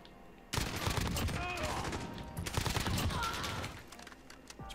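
Rapid M4A1 rifle fire in a first-person shooter, loud bursts of automatic shots with in-game combat noise behind them, then tapering off toward the end.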